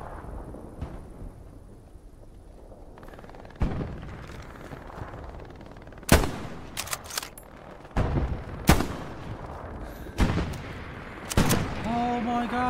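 Gunshots from a video game, fired with iron sights at long range, crack out as about seven loud, separate blasts spaced a second or two apart over a quieter background.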